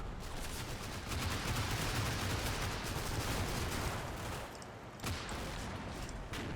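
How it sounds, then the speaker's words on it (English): Machine gun and 37mm tank gun fire from Stuart tanks in a World War II combat video game, a dense continuous crackle of rapid shots with a sharper burst near the end, loud and sustained. "This is just MG fire and 37mm fire from the Stuarts going out"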